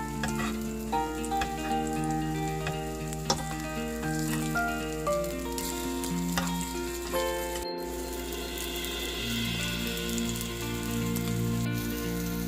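Korean oyster pancakes (gulijeon) fry in an oiled pan with a steady close crackling sizzle, with scattered pops and faint clinks of utensils and background music under it, and no talking.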